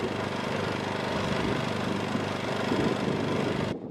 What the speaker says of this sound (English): An obvious difference between the electric scarifiers I've used in the past and this lawnmower is that the debris is mechanically thrown into the grass box